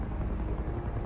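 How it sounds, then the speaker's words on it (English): A helicopter in the Uncharted 2 video game drones nearby as a steady low rotor rumble, constant and fairly loud throughout with no voices over it. "I knew that helicopter was looking at me funny."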